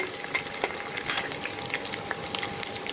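Green chillies crackle in hot oil with panch phoron for a pickle, a steady close-up sizzle dotted with small pops and spits.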